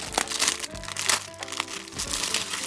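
The plastic packaging of a new diary is torn open and crumpled, giving loud, close crinkling and crackling that runs throughout with no talk.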